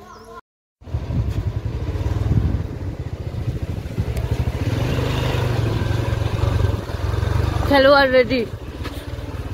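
A motorcycle engine hums steadily at close range, swelling slightly as it pulls up, while someone talks over it and another voice calls out briefly near the end.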